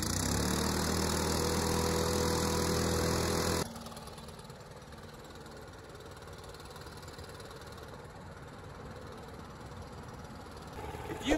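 Stihl BR800 backpack blower engine, a loud steady high-revving roar that drops abruptly to a lower, rougher idle and keeps running close by, with no voices.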